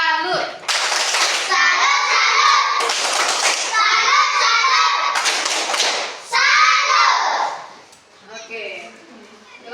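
Children in a classroom perform a rhythmic 'tepuk salut' clapping routine, with loud bursts of hand claps and thumps repeating in rounds alongside excited young voices.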